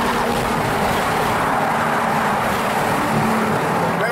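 A supercharged Audi R8 at full throttle in a tunnel, a loud, dense, sustained engine roar with reverberant road noise filling the space throughout.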